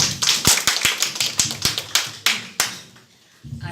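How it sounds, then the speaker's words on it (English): A small audience at a university statistics presentation gives brief, sparse applause: scattered sharp handclaps in an uneven rhythm that thin out and fade after a few seconds. "Please, a round of applause for"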